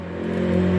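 The 2.0 engine of a Renault Megane 1, recently rebuilt, runs with a steady hum that rises slightly in loudness over a brief moment, close and clear with no talking.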